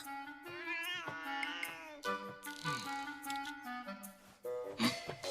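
Cartoon cat in an anime meowing and wailing in a string of drawn-out, whiny cries, close and alone with no talk over it.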